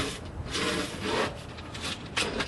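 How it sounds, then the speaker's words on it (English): Metal frame parts of a Harbor Freight 10 x 12 greenhouse slide together, giving a continuous close scraping rub over a few seconds with no talk. "we just want to slide this part number 25 right on to number 27"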